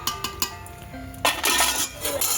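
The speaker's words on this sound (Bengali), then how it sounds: "এইবার তরকারি তোলার পালা" A ladle scrapes and knocks against a metal cooking pot while curry is served, giving several sharp clinks followed by a louder scraping rattle, close by.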